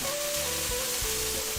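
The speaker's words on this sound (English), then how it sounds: "all we're doing is just frying" Chicken and broccoli fry in a pan with a dense, constant sizzle and a few light knocks from stirring.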